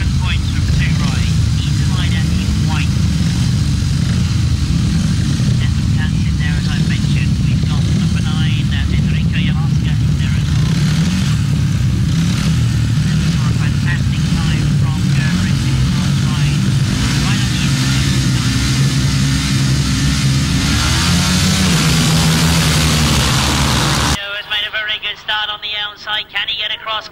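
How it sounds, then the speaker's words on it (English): Longtrack speedway motorcycles from the 2003 World Longtrack Championship final roar together as a pack heading into the first turn, a loud sustained engine drone under continuous race commentary, cutting off abruptly near the end. "Kelvin Tatum's got to the front as they go into that first turn"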